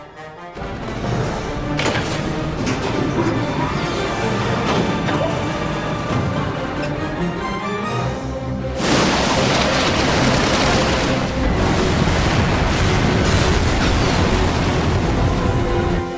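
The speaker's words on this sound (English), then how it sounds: "Give word to the cannons. Make ready and fire." A volley of cannon fire bursts from a Final Fantasy 12 cutscene, a loud crashing barrage over rumbling booms. The barrage surges again about halfway through, then rolls on as a continuous fusillade.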